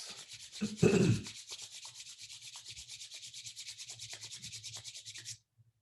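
Palms rubbed briskly together during a yoga session, a steady rhythmic swishing that runs for several seconds after a brief low murmur near the start, close and moderately loud, then stops abruptly.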